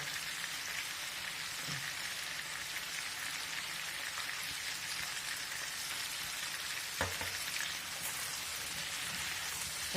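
Potatoes fry in a pan, giving a soft, continuous hiss and crackle with an occasional light scrape of stirring, fairly quiet and steady throughout.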